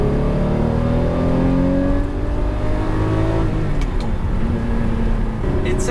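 A Lamborghini Murcielago V12 with a six-speed manual gearbox revs hard and loud from inside the car, its harmonics sweeping up and then settling as the engine pulls, with brief clicks and rattles near the end.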